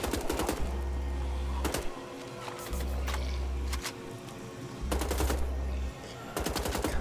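Bursts of player weapon gunfire in the shooter Wolfenstein: The Old Blood, several short rapid volleys separated by pauses, loud over a steady low game hum and ambient soundtrack.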